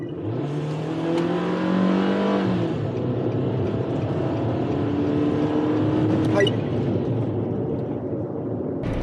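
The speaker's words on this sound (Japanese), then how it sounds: "40キロから80キロまでフル加速タイム計測してみます" A Nissan NV200 camper van accelerates hard from 40 to 80 km/h while merging, its engine note climbing steadily and loud under cabin road noise, with a brief voice at the start.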